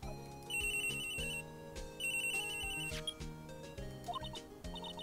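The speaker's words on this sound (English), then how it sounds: "Ah yes, the popular pink cell phone." A pink cell phone rings in the Ace Attorney video game, a looping electronic ringtone with repeated high beeping phrases over backing music, steady and fairly loud throughout.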